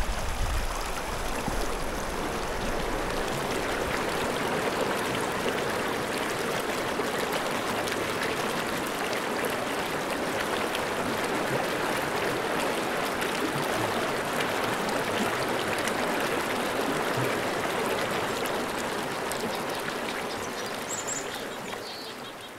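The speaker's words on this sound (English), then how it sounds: "it's nice to hear flowing water" Steady rush of flowing stream water at a winter campsite in -26° cold, a continuous broadband wash lasting the whole stretch and fading slightly at the end.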